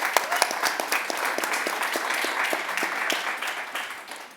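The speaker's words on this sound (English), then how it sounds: "Can we give teachers a big clap, please?" Audience applause for teachers at a public event, dense sustained clapping from a sizeable crowd, close and steady, with a few louder individual claps on top, continuing for several seconds without fading.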